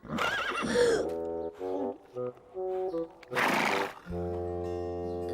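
Horses neighing in a French-dubbed Franklin Christmas cartoon, several loud close whinnies separated by short pauses, with no talking over them.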